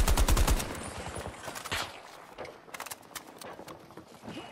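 Rapid gunfire in Battlefield 2042, a dense burst of loud shots up front, then scattered sharper cracks and thinner reports trailing off over a noisy battlefield backdrop.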